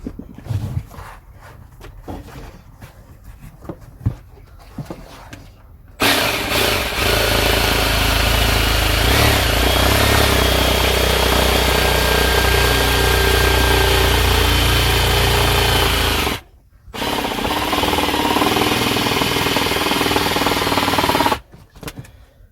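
A power tool cuts out a panel opening for a Chinese diesel heater in a Vauxhall Vivaro or Renault Trafic van, in a loud continuous grinding run. It pauses briefly and then resumes, after some quieter handling clatter.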